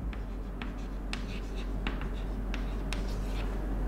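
Pen or chalk writing by hand during a maths lesson on determinants, a steady series of short scratchy strokes at close range over a constant low hum, no talk.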